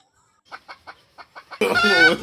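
A rooster gives six short, evenly spaced clucks, then breaks into a louder, sustained squawk at the end, heard alone and close.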